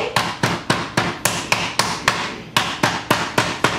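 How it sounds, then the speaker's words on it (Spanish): A kitchen meat mallet pounds raw chicken breast on a board with about fourteen sharp, evenly spaced blows, loud and close, each a crisp thud with a short decay, the steady rhythm pausing briefly once midway. "Yo le di unos pequeños golpecitos con el martillo."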